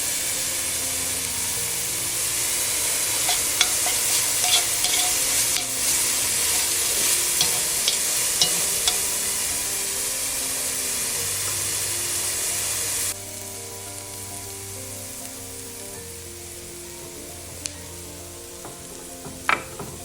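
Garlic and fresh thyme fry in a pan with a dense, crackling sizzle and scattered pops and spatula ticks, then the sizzle drops sharply to a quieter simmer partway through.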